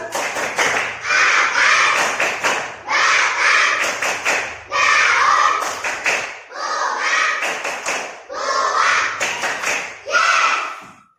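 A class of children performs the 'tepuk tumbuhan' clapping chant, bursts of rhythmic group claps interleaved with chanted voices in repeating phrases, loud and close.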